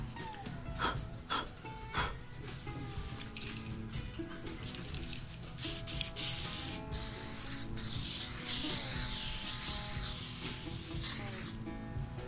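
T9 rust and corrosion protection sprayed onto a bandsaw's iron table in repeated hissing bursts, close and loud, with some rubbing and handling noises in between.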